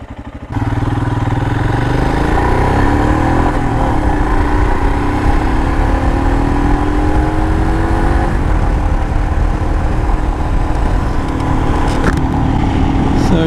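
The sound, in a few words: Royal Enfield Himalayan motorcycle engine riding and accelerating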